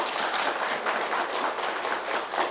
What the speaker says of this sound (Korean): 예, 박수 한번 칩시다.